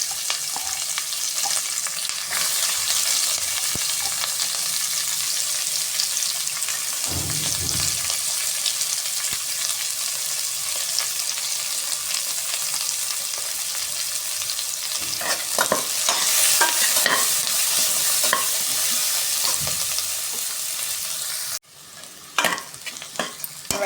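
Chopped onions sauté in hot oil for mint rice, a loud steady sizzle throughout with intermittent scraping and stirring strokes of a spoon in the pan, close and without talk.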